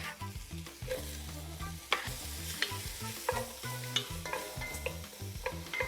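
Thinly sliced onion hits a hot Dutch oven alongside steak and sizzles and fries steadily, broken by repeated scraping and stirring clatters. The sound is close and moderately quiet, with no voices.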